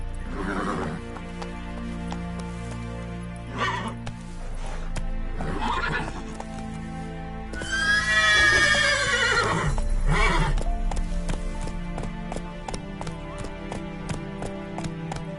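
Geralt's horse Roach in The Witcher 3 gallops with steady hoofbeats under game music, letting out a loud, drawn-out whinny partway through.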